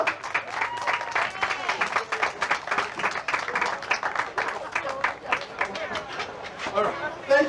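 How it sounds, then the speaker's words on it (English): An audience at a youth nonviolence summit claps in a sustained round of applause, dense and fairly loud, with crowd chatter mixed into the clapping throughout. "give them a round of applause as they come up"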